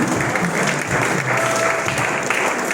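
A church congregation applauding and cheering for Jesus during a Sunday worship service, a steady, dense wash of clapping that fills the room for the whole stretch without letting up.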